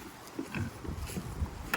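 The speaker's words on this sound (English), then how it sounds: "So come on, let's feed the pigs." Pigs grunt and oink in a low, irregular jumble at feeding time, several animals close by with a busy farmyard background.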